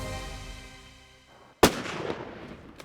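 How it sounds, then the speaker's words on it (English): A single loud rifle shot fired at a crocodile in a South African lake, a sharp close blast that follows a fading tone and leaves a long rumbling echo trailing off. "Good shot."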